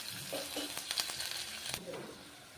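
Onions and green chillies frying in a pan, a quiet sizzle with soft crackles and a few stirring scrapes.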